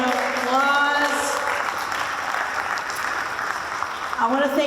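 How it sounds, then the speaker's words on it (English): An audience at an Earth Day press conference bursts into applause, a moderate spread of clapping that runs under a speaking voice at the start and end of the clip. "So give Newark an applause."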